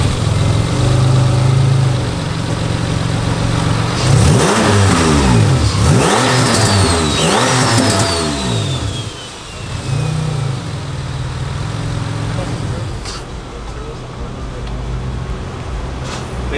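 A boosted Acura TL engine idles with a low steady rumble, then gets several quick revs that rise and fall in succession, loud and close, before settling back to idle with a brief voice near the end.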